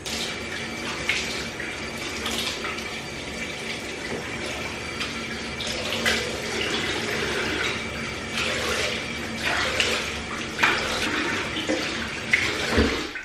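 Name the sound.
washing face with running tap water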